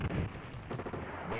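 Rockets fire in the Terminator 2 arcade game as a loud, continuous run of booming blasts and explosions filling the whole stretch, with no voice over them.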